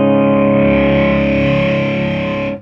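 A 1987 Marshall JCM800 guitar amp, cranked into overdrive, rings out one loud, thick distorted chord that sustains for over two seconds before cutting off abruptly.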